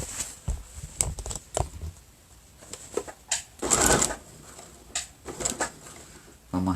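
A sewing machine makes short back-stitching bursts while a tote bag seam is finished. The stitching comes in brief, fairly faint runs separated by pauses and handling sounds.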